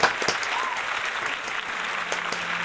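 A small group claps close by during a Pokémon card opening, a busy patter of hands with a few sharper, louder strikes standing out, lasting the whole stretch without speech.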